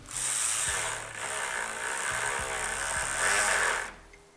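Power tool whirring continuously for about four seconds while driving bolts into the plastic radiator wind deflector of a 2012 Mercedes-Benz GL450. The motor is loud and close, with small pitch changes, and cuts off abruptly at the end.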